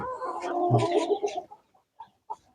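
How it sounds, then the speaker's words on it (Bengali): A Brahma hen gives one drawn-out, throaty cluck followed by three short separate clucks, close and clear with quiet gaps between them. "এটা হলো ব্রাহ্মা জাতের একটা মুরগি"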